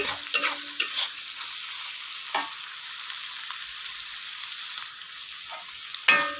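Spice paste for soto Betawi frying in oil with three kaffir lime leaves, a constant bright sizzle broken by a few scraping stirs of a spatula, close and clear with no voices.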